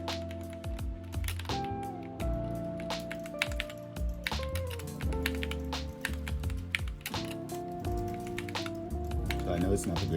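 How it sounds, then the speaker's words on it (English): Typing on a GK61 keyboard fitted with Gateron Optical Silver switches during Fortnite play, a dense run of quick clicky keystrokes layered under loud game music and effects. "every single time I press something on my keyboard"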